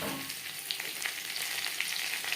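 Onion, ginger and green chili paste fries in hot oil, a steady close sizzle with faint crackles and light stirring scrapes throughout, no voices.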